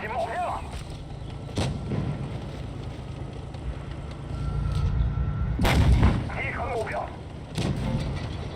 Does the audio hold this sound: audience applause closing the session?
no